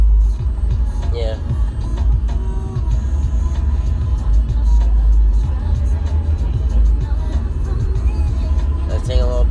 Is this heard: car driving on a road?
yes